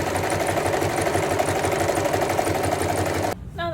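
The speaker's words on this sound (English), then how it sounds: "I'm gonna sew a zigzag stitch all the way around" A sewing machine running a zigzag stitch around the edge of a pieced fabric rectangle, a loud close steady rapid whirring hum that stops abruptly just before the end.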